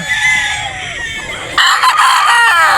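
Local banded roosters crow and cluck loudly at close range, with repeated crowing calls overlapping one another and growing stronger midway, no talk over them.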